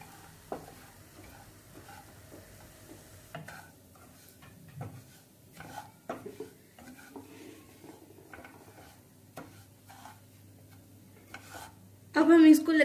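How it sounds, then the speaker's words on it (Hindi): Semolina roasts in hot ghee while being stirred constantly, producing soft intermittent scraping and clinks of a spoon against the pan over a faint low sizzle, closing with a louder clatter. "अब हम इसको लगातार चलाते रहेंगे जब तक जो हमारी सूजी है वो अच्छे से भुन ना जाए"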